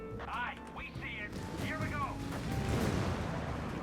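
In Company of Heroes 3, a British Loiter's rocket strikes slam down as a rumbling, booming barrage that swells and holds, following a brief stretch of whistling, voice-like game sounds.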